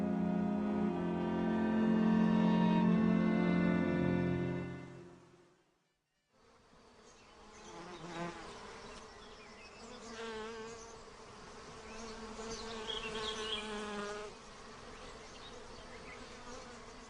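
Honeybee foragers buzzing in a steady, close drone that fades to near silence, then returns as several overlapping wingbeats rising and falling around the flowers.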